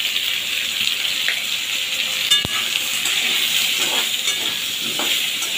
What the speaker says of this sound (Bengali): সুন্দরভাবে নেড়ে চেড়ে মিশিয়ে দেবো।